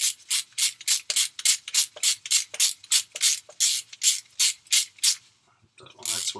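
Ratchet loosening oil pan bolts, a loud, close series of about fifteen quick, evenly spaced clicking pulls, then a short pause and a final rattle of metal.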